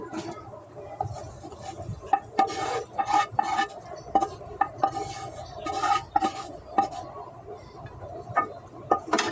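Cooked snakehead fish curry being tipped from a cooking pan into a serving pot, with repeated clinks and scrapes of a metal utensil against cookware, close and moderately loud, no talking.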